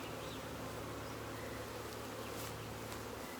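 Honeybees crowd around a frame of a nucleus hive, giving a dense, continuous close buzzing that stays even throughout the short stretch.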